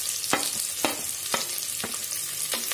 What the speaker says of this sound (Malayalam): ഇനി ഇതിലേക്ക് അരിഞ്ഞു വെച്ചിരിക്കുന്ന സവാള ചേർത്ത് കൊടുക്കുക